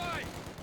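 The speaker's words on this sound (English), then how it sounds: "MG getting some nice suppression done" A short burst of machine gun fire in the World War II strategy game Company of Heroes 2, rattling under a commentator's voice.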